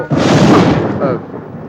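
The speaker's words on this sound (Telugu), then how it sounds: "గంట నుంచి వర్షం వస్తుందా" Rain pours with rolling thunder during a scene in a family comedy-drama film, a loud, dense, broadband roar that swells at once and rumbles on, with a brief voice near the end.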